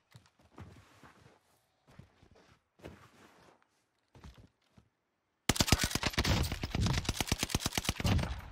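Sporadic shots from a Marco SMG in Warzone Caldera during the first half, then a sustained rapid burst of automatic fire, loud and close, hammering out evenly for about three seconds.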